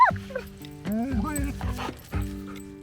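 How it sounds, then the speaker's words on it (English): A dog whimpers and yips outdoors in a few high, wavering bursts, fairly close and loud, with short pauses between cries. "It was so good to see Allie running around and exploring again"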